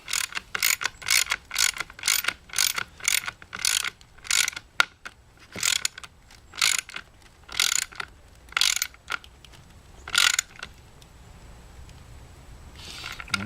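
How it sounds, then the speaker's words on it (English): A ratchet clicks in about a dozen quick bursts, near and crisp, as a bolt is torqued down into a T-nut on a carry plate, with faint room hiss and a short pause near the end. "torque the bolt down"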